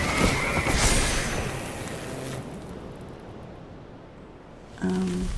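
A horse neigh from the MTG Arena digital card game plays as a loud, close whinny over dense game audio, with a tonal chime near the end.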